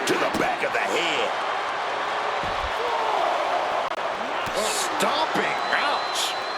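Wrestling video game action in WWE 2K26 as one wrestler repeatedly stomps a downed opponent, thudding impacts under steady commentary and a crowd murmur.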